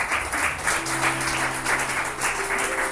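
A church congregation claps for the Lord, a steady spread of applause through the whole stretch at moderate level, with a faint held musical tone underneath.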